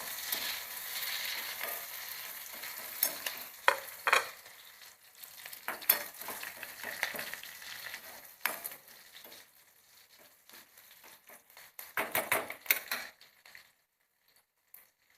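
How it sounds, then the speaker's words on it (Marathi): Onion and curry leaves frying in a pan for a bitter gourd dish, with a steady close sizzle and crackle, plus intermittent sharper bursts and stirring scrapes. "कांदा घालूया कडीपत्तीची चार पानं घेतलेली ती घातली"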